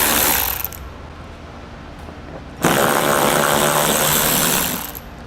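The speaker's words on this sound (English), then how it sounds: "So we'll grab a 10mm socket and pull those out." Bolts on a 2011 Toyota Sienna being removed with a 10mm socket, a loud whirring ratchet or power-tool rattle in two long runs with a brief quieter gap, no talk.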